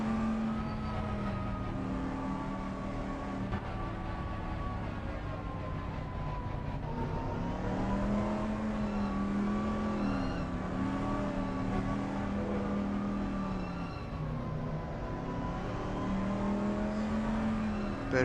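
GT3 race car in a racing video game at Zandvoort, the driver riding the brake to warm the tyres: a steady, droning engine note with wavering pitch that rises and falls slightly, continuous throughout with no talk.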